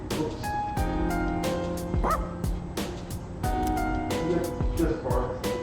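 A dog barks and yips repeatedly in short, sharp bursts at close range, with occasional whimpers, while people talk over it.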